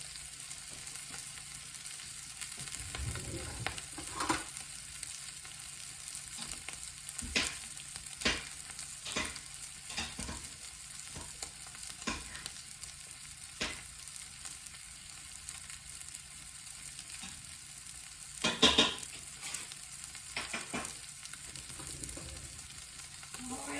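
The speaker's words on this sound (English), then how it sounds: "Cabbage is cooking" Cabbage cooking in a pan gives a soft steady sizzle, with irregular clacks and scrapes of a utensil stirring and a louder knock near the end, heard close and without talk.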